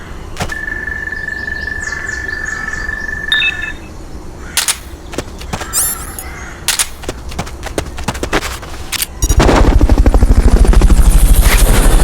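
Helicopter rotor chopping in Metal Gear Solid: Peace Walker, arriving loud and close near the end after a stretch of sharp gunshot-like cracks, a held electronic tone and scattered game effects.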